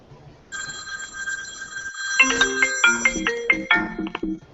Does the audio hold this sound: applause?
no